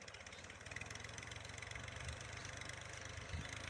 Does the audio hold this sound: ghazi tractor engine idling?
yes